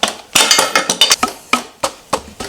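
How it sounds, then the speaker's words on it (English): A hammer taps a socket out of a crashed Yamaha R6 motorcycle part, about a dozen sharp metallic knocks in an irregular rhythm, loud and close with no talking. "You just tap this in all the way until the socket comes out."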